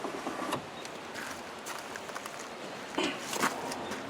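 A Land Rover Defender door window in very poor condition being wound up and down, quick squeaky rubbing strokes with short pauses, close and fairly quiet.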